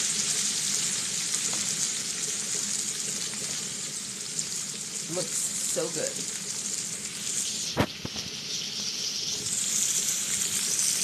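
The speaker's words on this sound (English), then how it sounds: "I'm frying in lard and butter." Pork chops frying in a mix of lard and butter, a steady sizzle and crackle running throughout, with brief clatters near the middle and someone speaking over it.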